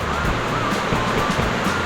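Rushing water from a river near a cottage, a steady broadband wash that runs loud and continuous throughout with no talk over it.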